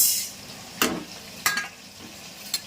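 Urad dal frying in a pan, a faint steady sizzle broken by three or four short scraping stirs, close by and with no talk.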